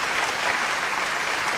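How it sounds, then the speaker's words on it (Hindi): Enthusiastic audience clapping at a Hindi-Urdu poetry recital, a thick, continuous wash of many hands applauding loudly and evenly with no voices over it. "एक बार जोरदार तालियां बजा के"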